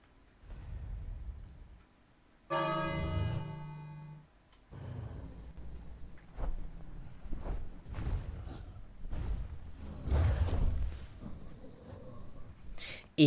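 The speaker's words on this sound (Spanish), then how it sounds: "Y hago sonar la campana." A bell rings out in the King's Quest adventure game: one bright, harmonic chime with a short decay, followed by soft thuds and game sounds.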